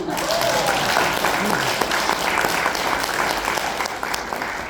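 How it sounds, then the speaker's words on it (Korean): A lecture audience at a reunification talk claps together in a full, sustained round of applause that fades slightly toward the end, with faint voices under it. "박수 한번 치자고요"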